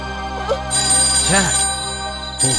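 A telephone rings with a steady electronic tone in a tense Telugu thriller movie scene, repeating through the moment while voices speak over it.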